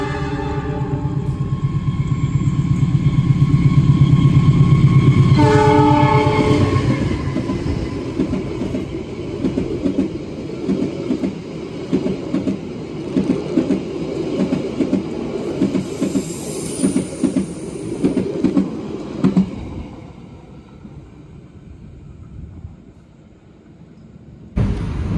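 A Kutojaya Selatan passenger train departs Karangpucung station in Indonesia, wheels rolling and rumbling over the rails with steady clickety-clack and brief squeals, loud and close for most of the stretch before easing off.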